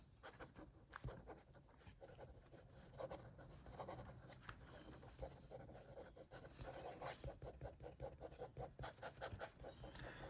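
A Majohn Moonman B25 fountain pen scratches quickly across paper, a steady run of soft rasping strokes with brief pauses between words, close and fairly quiet with no talk.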